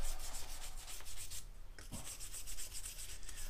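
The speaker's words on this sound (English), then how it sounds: "Just keep wire brushing her there, McP." Brake parts get scrubbed by hand with a wire brush: rapid, steady back-and-forth scraping strokes, close and harsh, with no talking.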